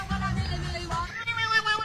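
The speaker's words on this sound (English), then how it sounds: "I don't know what makes a cat make that noise." A cat meows through playback from a video, a drawn-out wavering call followed by a second shorter cry, fairly close and loud.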